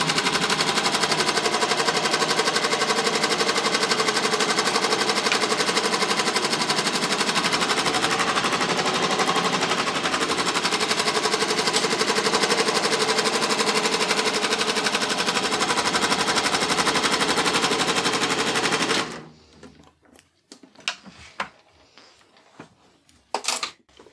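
A sewing machine runs fast and loud, stitching the seam of a Ninian Shetland poncho with the foot pedal held down for a long steady burst, then stops abruptly, leaving a few faint clicks and handling sounds.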